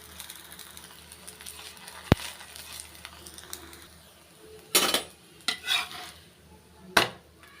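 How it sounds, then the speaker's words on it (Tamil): Parotta flatbread being cooked on a hot pan, with scattered pats, scrapes and clinks of a utensil against the pan over a low background, several sharper taps near the end. "அப்பப்போ எடுத்து தட்டி தட்டி விட்டுக்கணுங்க."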